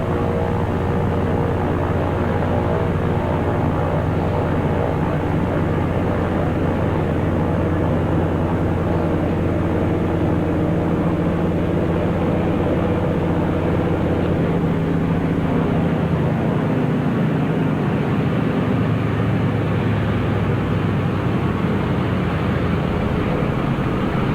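Small floatplane landing near a dock in Alaska, a steady loud engine drone that holds throughout and eases slightly near the end, with no voices.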